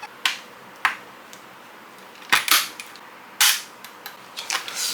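CPU cooler mounting bracket snapping into the four motherboard mounting holes, a series of sharp, close plastic clicks and taps spaced irregularly, some doubled, with no talk.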